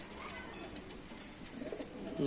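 Restless pigeons kept for sale coo softly in the background, a faint, low, burbling call over a steady hiss of ambient noise.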